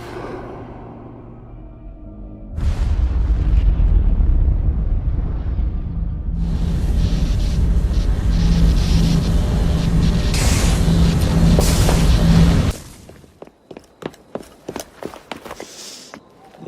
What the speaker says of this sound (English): Piece of Eden detonated and took the lab with it.